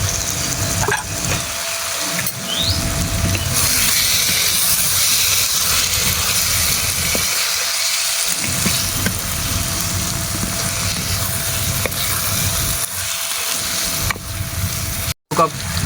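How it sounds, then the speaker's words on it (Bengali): Fried eggs go into hot oil with biryani masala in a clay pot for Kolkata-style egg dum biryani, giving a steady loud hiss and sizzle that runs continuously with a few brief dips. "এবার আমি ডিম, ভেজে রাখা ডিমগুলো দিয়ে দেবো।"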